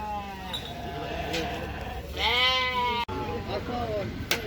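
Merino ewes bleat at a livestock market at Uzynagash near Almaty, with a long wavering call in the middle and shorter ones around it, all set against steady background chatter and market noise.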